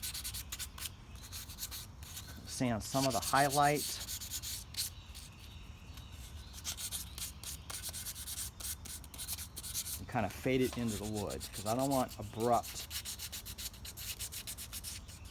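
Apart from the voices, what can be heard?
sanding painted wood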